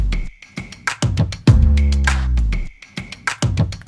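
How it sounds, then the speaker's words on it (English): A chopped pre-chorus music loop built from a Splice Power Tools sample pack, with punchy stuttering hits, a sustained pitch-sweeping tone in the middle and a repeating rhythmic pattern, loud and without voices. "So altogether, the loop in that pre-chorus sounds like this."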